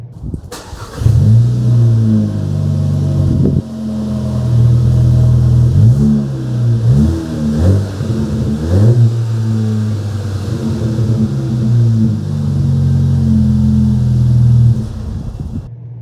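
A 2021 Volkswagen GTI engine with aftermarket exhaust and intake idles with a deep exhaust note, then revs up several times in short bursts before settling back, loud and close.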